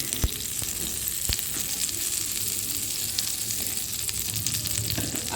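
Butter sizzling in a pan while bread toast is made, a continuous close hiss with a few sharp clicks and occasional light stirring, no one speaking.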